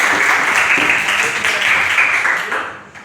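Classmates in a fifth-grade class applaud a pupil after she leads a prayer, a dense burst of clapping from a small group that runs steadily and then thins out toward the end.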